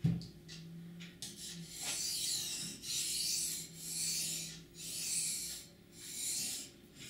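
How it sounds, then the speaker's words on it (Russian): A dull kitchen knife is sharpened on a 3000-grit Japanese whetstone, making rhythmic back-and-forth rasping strokes, about six regular swells of close, steady scraping with no talk. "И здесь я пропускаю 1000 камень, сразу иду на 3000. Значит, шлифую я вот таким образом."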